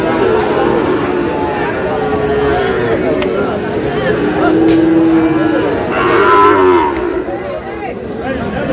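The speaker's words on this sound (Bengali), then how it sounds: "শাহিওয়াল ষাঁড়," A Sahiwal bull calf lows at a busy cattle market, its drawn-out moos rising close by over loud crowd chatter and nearby talking.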